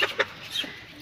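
A rooster gives a couple of short, faint clucks close by in a quiet yard, brief and soft with little else around.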